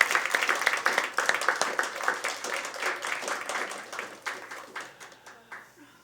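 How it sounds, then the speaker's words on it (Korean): Church congregation clapping in welcome for a deacon coming up to share a hymn, a dense patter of many hands filling the room and gradually thinning toward the end, with some voices mixed in. "박수로 우리 환영하겠습니다."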